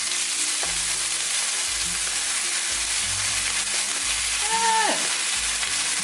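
A keto Philly cheesesteak quesadilla fries in a pan, giving a steady loud sizzle with scattered pops and crackles, plus a few low background clunks and a brief higher squeak near the end.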